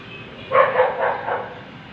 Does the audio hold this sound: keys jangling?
no